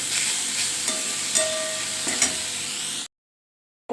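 Leafy greens (shak) fry in a pan with rice-paste batter, a soft, steady sizzle broken by a few brief stirring scrapes. The sound then cuts to silence for the final second.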